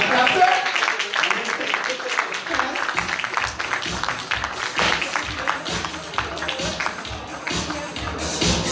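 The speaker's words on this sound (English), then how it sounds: "Give it a round of applause for Professor." A talk-show audience applauds a guest being introduced, a steady patter of clapping that keeps going for several seconds, with voices mixed in.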